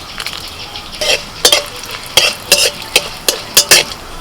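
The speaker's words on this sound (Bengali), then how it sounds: "কড়াইতে ঘি দিয়েছি এক চামচ মতো আর ঘিয়ের মধ্যে আমি দিচ্ছি এলাচ দারচিনি লবঙ্গ অল্প একটু গোটা জিরে তিনটে শুকনো লঙ্কা দিয়েছি" Cardamom, cinnamon, cloves, cumin, three dry red chillies and a little fenugreek in a spoonful of hot ghee in a kadai, close-up sizzling broken by a series of sharp spoon-against-pan scrapes and clinks in an uneven rhythm.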